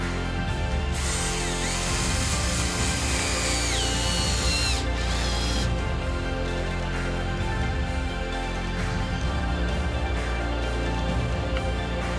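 A power drill whines steadily at close range with a high-pitched motor tone, pausing briefly midway before grinding on as it drives a cable tensioner into a hardwood post.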